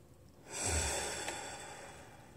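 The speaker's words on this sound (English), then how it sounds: "And then a deep breath in." A single deep, slow breath drawn in during a calm meditation and tapping exercise: a soft, airy rush that swells quickly after a short quiet, then tapers off gradually. It is close and alone, with no talking.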